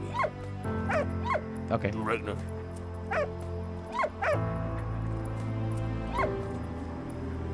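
A dog in the WWI game Valiant Hearts gives repeated high yips and whimpers, scattered over several seconds above a low, steady game soundtrack, while someone briefly speaks.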